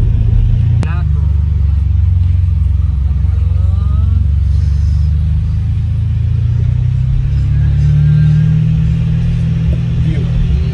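A Ferrari engine drones loud and low as the car climbs a hill in Monaco, a continuous heavy rumble with a gradual rise in revs toward the end, while people talk over it.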